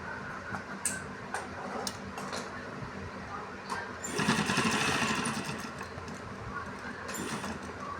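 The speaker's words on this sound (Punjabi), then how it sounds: "ਆ ਦੇਖੋ ਜੀ ਇਸ ਤਰ੍ਹਾਂ ਸਲਾਈ ਲਾਉਣੀ ਹੈ" A sewing machine stitches a seam on a Punjabi mohri (trouser cuff), its rapid ticking rattle running in short runs with one louder, busier burst in the middle, close and fairly quiet, while a person talks over it.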